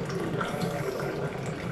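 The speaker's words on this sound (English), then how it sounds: "So watch me pour hot water on this" Hot water poured from a kettle or tap onto greasy dishes in a kitchen sink in Japan, a steady close splashing rush that runs evenly and continuously without pauses.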